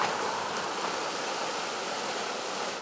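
Rushing floodwater pours through Little River after a thunderstorm, a loud, steady broadband roar like rapids that holds constant and close for the whole stretch with no voices.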